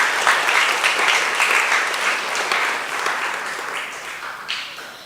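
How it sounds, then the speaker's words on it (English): Audience at a junior school graduation ceremony applauding the graduating students, with dense continuous clapping filling a hall that swells early and then slowly tapers off, with no voices on top. "Let's applaud them again."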